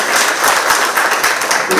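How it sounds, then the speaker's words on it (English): An audience applauds the mayor at a National Trust Plaza event in the San Carlos Heritage District, a brief burst of dense, loud clapping with no talk over it. "please, let's give him a round of applause"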